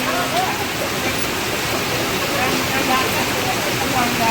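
Heavy rain pours down in Siddhpur, a dense, steady hiss of downpour that stays loud and unbroken throughout, with faint voices underneath.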